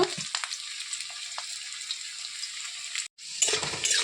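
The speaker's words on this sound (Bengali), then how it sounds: "আলুগুলো প্রথমে ভেজে নেব" Potatoes frying in hot oil in a kadai, a steady close sizzle with occasional stirring scrapes, briefly cutting out before resuming louder near the end.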